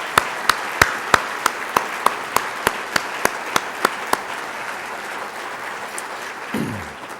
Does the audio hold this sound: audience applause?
yes